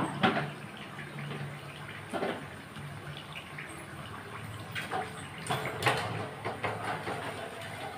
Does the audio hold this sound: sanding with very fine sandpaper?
no